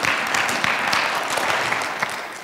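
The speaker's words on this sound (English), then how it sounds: "Come on, clap if you're gonna clap" Audience clapping at a talk, a steady dense wash of many hands held at an even level for the whole stretch, with no voices over it.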